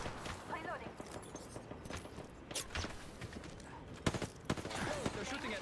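Gunfire in a battle royale shooter, scattered shots and bursts aimed at the player, mixed with game effects and other busy sounds at moderate level.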